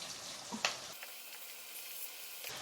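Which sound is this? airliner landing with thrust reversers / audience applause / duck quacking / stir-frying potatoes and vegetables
stir-frying potatoes and vegetables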